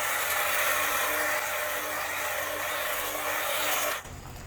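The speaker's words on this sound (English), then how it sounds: "if you're looking for a cool cordless, wireless, rechargeable hedge trimmer, check out the BLACK+DECKER 20V max hedge trimmer kit" A BLACK+DECKER 20V MAX cordless 18-inch hedge trimmer runs close up with a steady, dense buzzing whir that cuts off sharply near the end.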